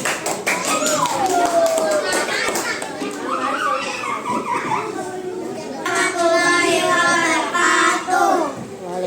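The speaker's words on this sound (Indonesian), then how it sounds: "Tepuk tangan." A classroom of third-grade children clapping in quick scattered bursts, with excited young voices chattering and squealing over the applause.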